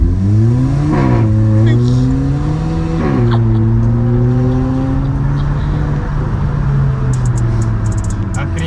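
Car fitted with a newly tuned sports exhaust revs close by, a loud steady drone with two sharp throttle blips early on, burbling as it settles, while people talk over it.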